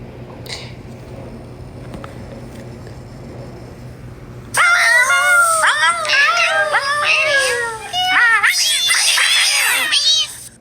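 A cat meows and yowls loudly and close by in a rapid run of repeated cries. They start abruptly after a few seconds of quiet background and continue almost to the end.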